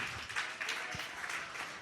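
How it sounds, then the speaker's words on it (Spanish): A church congregation applauds during a sermon, a dense, steady wash of many hands clapping, faint and somewhat distant. "Denle un aplauso al Señor"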